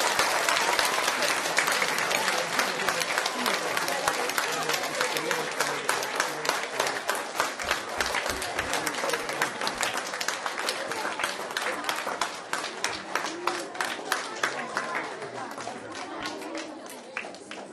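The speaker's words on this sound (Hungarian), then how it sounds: "Nagy tapsot kérek" An audience at an end-of-year school concert claps in long, dense applause that gradually thins and softens, with a voice speaking briefly beneath it.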